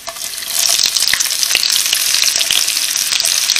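Mustard seeds, crushed ginger and chopped onion fry in a pan of hot oil, giving a loud, continuous sizzle with scattered crackles and pops close by.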